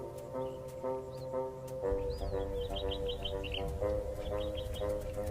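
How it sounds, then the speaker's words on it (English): Birds chirping at a desert oasis in spring, a run of quick bright tweets and short calls in clusters, moderately near, over a sustained low musical drone. "the desert becomes an oasis, attracting a wide array of bird life"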